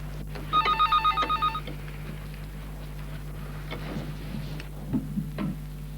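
An old-style telephone bell rings in a rapid burst of repeated trills for about a second, followed by quiet room sounds and a few soft knocks.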